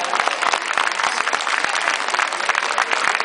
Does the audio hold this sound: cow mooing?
no